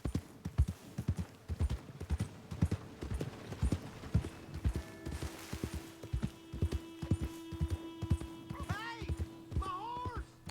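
Horse hooves clip-clop steadily on the ground in Red Dead Redemption 2, a regular rhythm of close hoof strikes running throughout, with someone talking over it and a brief whinny-like tone near the end.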